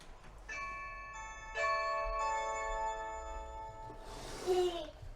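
A Blink video doorbell chime rings indoors as a clear, sustained electronic tone that restarts partway through, fairly close, followed by a brief bump of handling noise near the end.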